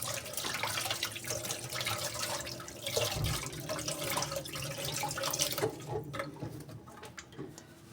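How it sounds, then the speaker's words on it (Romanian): A kitchen tap runs steadily while hands are washed during pastry-making, close and continuous with splashing and rubbing, then the flow thins and stops near the end. "Eu acum haideți să mă spăl pe mână ca să pot să-l întind bine."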